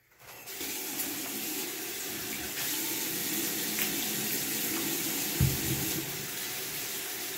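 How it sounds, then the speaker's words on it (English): Water runs from a tap in a steady, continuous stream while steel wool is washed with dish soap, close and unbroken for several seconds. "So we're gonna use some dish soap and some soap and water."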